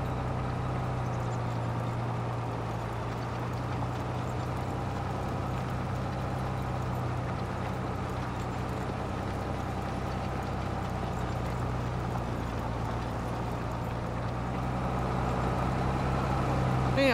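A Case Quadtrac tractor engine drones in Farming Simulator while it pulls a chisel plow. The low, even rumble holds steady and loud for the whole stretch, with no break and no talking.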